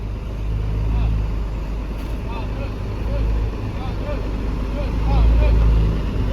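A Harapan Jaya first-class coach, unit SBC 3 AG 7009 UT, rolls along with a steady low engine and road rumble heard from inside the cabin, swelling and easing gently while a voice speaks over it.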